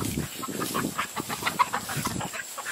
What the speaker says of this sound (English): There's the chickens, Boo.